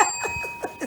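A bell is rung several times in quick succession, bright steady ringing tones sounding close over a background of low murmuring.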